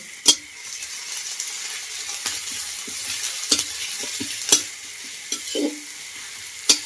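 Chopped onion sizzles steadily in hot oil in a pan, with repeated scraping and clacking stirring strokes over the continuous hiss, alone and fairly close.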